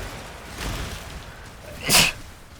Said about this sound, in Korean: 재채기 재채기